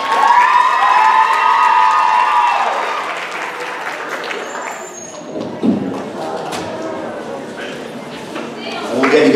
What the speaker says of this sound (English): big round of applause for Kara and Madison